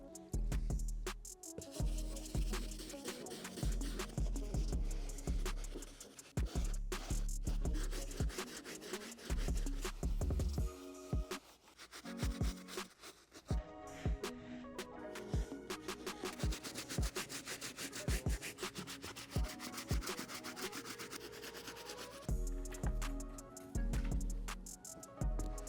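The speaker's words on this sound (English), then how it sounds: "I am all done with the first pass using our soft bristle brush" A soft bristle brush scrubs a pair of Jordan 11 sneakers with rapid, rhythmic back-and-forth rubbing strokes. The sound is close and steady, with brief pauses, and no one speaks.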